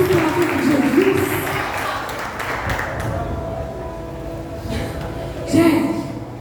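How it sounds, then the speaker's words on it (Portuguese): A church congregation applauds, giving a continuous, moderately loud patter of clapping crowd noise with a few sharper bursts and no talk. "Pode aplaudir, gente"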